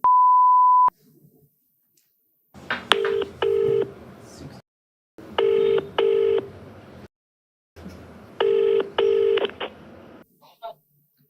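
A phone number is dialed by pressing keys: a single steady tone, then three clusters of short DTMF beeps in quick pairs and runs, clear and close, with faint voices in the gaps.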